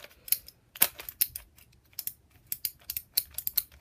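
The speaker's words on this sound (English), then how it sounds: "You can kind of hear the magnets in there." Moyu magnetic skewb puzzle cube being turned quickly, its plastic pieces snapping into place with faint magnetic clicks; a rapid, irregular series of sharp, close clicks with no talk.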